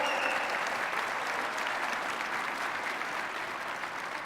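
Steady, dense applause from a large crowd at a robotics regional opening ceremony, honoring the referees, sustained loud and continuous throughout with no speech over it.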